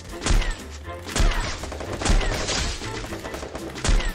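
Sharp, booming shots from an old AWP sniper rifle in an online shooter game, four spaced reports about a second apart, loud and close over a busy background of game noise.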